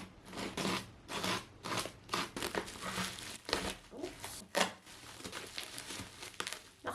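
A cutter slices open the plastic-wrapped packaging of an iPhone 11, with crinkling, scraping, and short tearing strokes up close, quiet and repeated throughout the clip.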